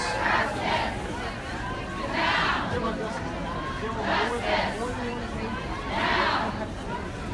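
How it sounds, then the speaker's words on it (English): A crowd of a couple hundred people waiting outside the international arrivals door at an airport during a protest, a steady murmur of many voices with a few louder swells of cheering or shouting rising over it. "the crowd here is a couple hundreds of people that are just awaiting outside of the international arrivals door"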